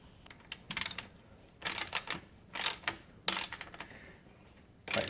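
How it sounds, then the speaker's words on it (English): Axle nuts on a 2018 Rad City e-bike are tightened with a ratcheting wrench after a freewheel upgrade. The close, clicky ratchet strokes come in short irregular bursts separated by brief quiet gaps. "Tighten your axle nuts."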